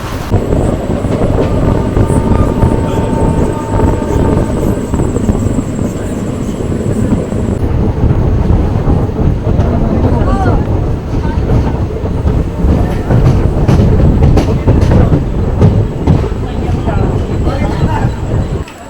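A passenger train runs on rails from Pendra Road toward Jabalpur in India, its steady rumble and clickety-clack continuing loudly and evenly throughout, heard from inside a carriage.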